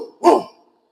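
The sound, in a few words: voice imitating a dog barking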